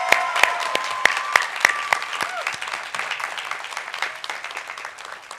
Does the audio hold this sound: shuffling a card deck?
no